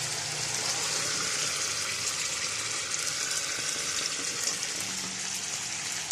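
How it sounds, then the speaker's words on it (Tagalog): Water pours into a pot while biryani is cooked, a continuous faint gushing hiss that holds steady for several seconds with no talking. "Lagyan po natin ng tubig."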